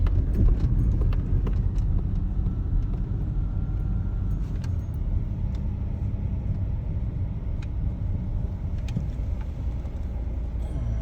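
Horse hooves clip-clop faintly over a dense, steady rumble of road traffic and engines in an outdoor spot in Qatar.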